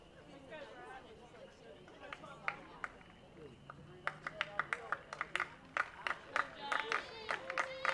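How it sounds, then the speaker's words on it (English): Whippets baseball fans in the stands clap in a rhythmic beat at a high school game, sharp claps growing denser and louder toward the end over background crowd chatter. "Rhythmic applause by the Whippets."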